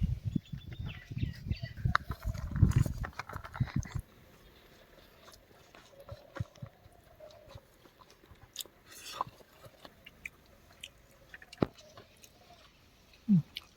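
Close chewing and munching of a home-made dahi paneer curry in thick gravy, loud crunchy bites for the first four seconds, then quieter intermittent soft chewing and small mouth sounds.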